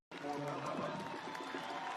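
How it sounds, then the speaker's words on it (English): A stadium crowd applauds and cheers a substituted soccer player leaving the pitch at a Phoenix Rising FC home match, a dense, steady wash of clapping and crowd noise with a commentator's voice over it. "He'll leave to a good round of applause."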